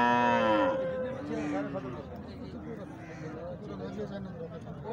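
A Jersey heifer in a Punjab cattle yard gives a loud, close moo at the start, followed by a fainter low call, with people talking throughout.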